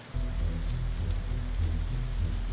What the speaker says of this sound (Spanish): Mientras veía las gotas de lluvia correr por mi parabrisas